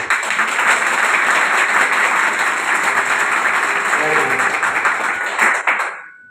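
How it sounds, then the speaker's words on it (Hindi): A seminar audience on one side of the hall claps hard in a clapping competition, a dense, loud, sustained wave of applause that fades out at the end. "पहले इस साइड से सभी तालियां बजाएंगे"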